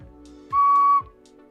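A homemade mini whistle sounds one clear higher-pitched toot of about half a second, loud and near, with faint knocks before and after.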